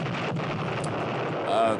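A mock explosion sound effect cut into a comedy bit, a broad rumbling burst with a booming tail, fairly loud and lasting under two seconds.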